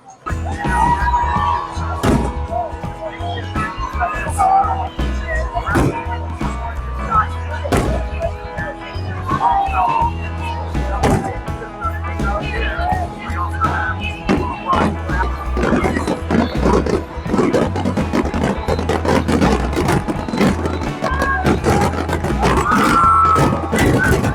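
Fireworks over the water at the Wildwood boardwalk on the Jersey Shore, heard as a continuous stream of sharp pops and booming bursts against a steady, noisy crowd backdrop.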